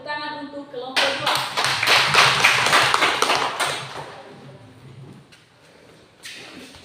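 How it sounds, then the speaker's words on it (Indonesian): A classroom of students claps together for a presenting group. The applause starts abruptly, stays loud and dense for about three seconds, then thins to scattered claps, and a teacher's voice is heard just before it. "tepuk tangan untuk kelompok 2"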